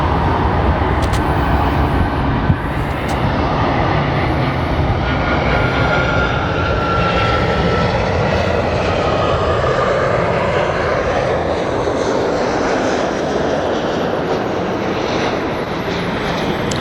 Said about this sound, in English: As American 2211 from San Francisco. See how fast they're coming down?